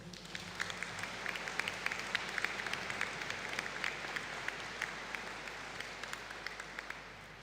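A graduation ceremony audience gives a collective round of applause for pharmaceutical sciences graduates, with steady, fairly distant clapping that runs continuously without pause.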